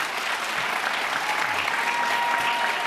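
Steady applause from a sizeable audience at a political speech fills the whole stretch, dense and even, with no voices standing out above the clapping.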